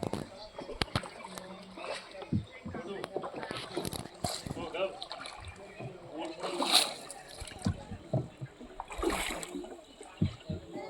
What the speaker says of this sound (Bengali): ওই যে নৌকা চালাচ্ছে ওই আওয়াজটা